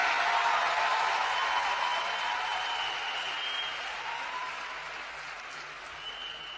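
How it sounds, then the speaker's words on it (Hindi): An audience at a public event gives loud, dense applause for Prime Minister Narendra Modi, steady clapping that gradually eases over several seconds with no talk. "तो एक बार जोरदार तालियां देश के प्रधानमंत्री नरेंद्र मोदी जी के लिए।"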